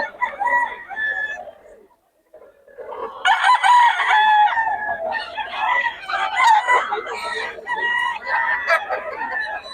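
Roosters at a gamefowl seller in Bocaue crow loudly and repeatedly, with clucking mixed in. The calls are close and overlapping, with a brief pause early on before more crowing follows.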